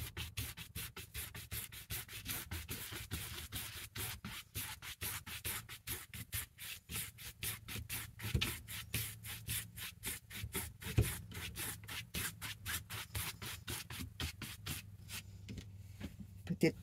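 A paintbrush lays a black stroke on canvas for a poppy painting, making a quiet, close, rapid rubbing with many short repeated brushing strokes throughout.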